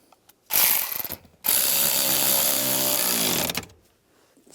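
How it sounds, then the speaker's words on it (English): A hand ratchet tightens bolts on a 1998-2010 Volkswagen Beetle parking brake cable, with a short burst of clicking followed by a long, steady, close ratcheting run that winds down, and no voice. "And the 2 bolts. And we'll tighten that down."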